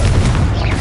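A short, heavy, low boom from a Confringo fire spell explosion in Hogwarts Legacy, close and loud with a dense rumbling body throughout.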